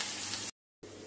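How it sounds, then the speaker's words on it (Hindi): Onions frying in a pan for an Indian chhole recipe, a steady close sizzle that cuts out briefly and then resumes. "इसे अब अच्छी गुलाबी होते तक के भून लेंगे"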